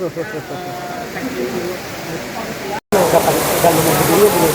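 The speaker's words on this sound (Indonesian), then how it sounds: "Ini hujan tuh, karena hujan begini tuh." Steady rain falling outside a mosque in Indonesia, a dense broadband wash that continues throughout, briefly cut out by a short gap, then returns louder and closer with faint tonal sounds mixed in.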